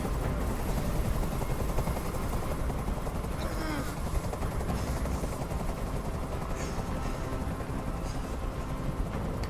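A steady, heavy helicopter rotor drone in the video game Detroit: Become Human fills the scene, mixed with rapid gunfire-like crackle and faint voices underneath.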